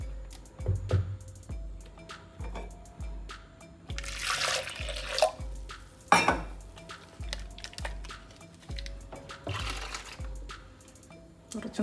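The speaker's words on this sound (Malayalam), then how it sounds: "ഇതിനകത്ത് കുറച്ച് വെള്ളവും കൂടെ ഒഴിച്ച് ഒഴിക്കാം." Water is poured in short splashing pours into a clay pot holding ground coconut-style paste for an oil-free fish curry with taro, dripping and sloshing up close with light clinks of the pot.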